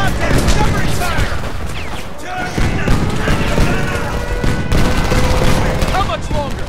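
Dense, sustained gunfire in the video game Homefront during a firefight on a platform against KPA troops, with loud overlapping bursts and booms running throughout under shouted voices.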